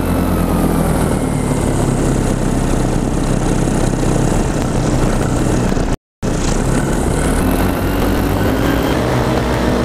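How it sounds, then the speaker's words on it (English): A paramotor engine drones loudly and steadily in flight, a constant buzzing propeller roar with a brief cut partway through and a faint rising whine near the end. "That air traffic very close by."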